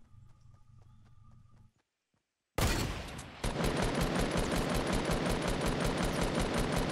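Gunfire in Fortnite: after quieter rhythmic clopping and a brief silence, a loud sharp blast opens rapid, evenly spaced automatic shots that continue steadily and close by.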